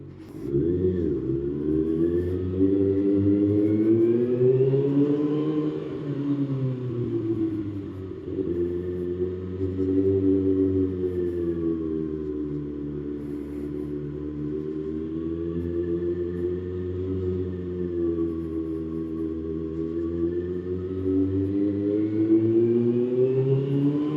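Kawasaki ZX-6R motorcycle engine heard while riding, a steady close rumble whose pitch rises and falls smoothly as the throttle is opened and eased over a long stretch, no talking.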